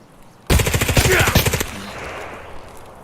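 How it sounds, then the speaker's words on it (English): Automatic rifle fire in the game Escape From Tarkov bursts out as one loud, rapid string of shots lasting about a second, then fades into a lingering echo. "So there's some automatic gunfire."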